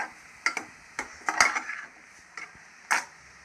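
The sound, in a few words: stirring ingredients in a pot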